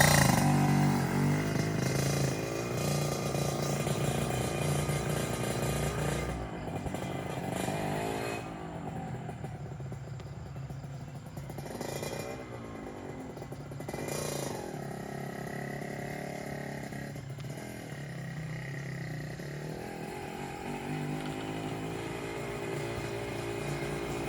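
A Yamaha RX King two-stroke motorcycle engine runs close by with a loud raspy drone, its pitch rising and falling through several revs over about 24 seconds, no clear speech.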